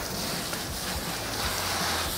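An adjustable multi-cone hose nozzle sprays water while rinsing a motorcycle during a wash, giving a steady, close, broadband hiss with no pauses throughout.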